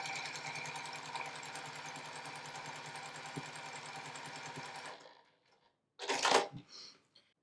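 Sewing machine stitching a line across a layer cake quilt, a steady close mechanical whirr for about five seconds that then stops, followed by a brief clatter of handling.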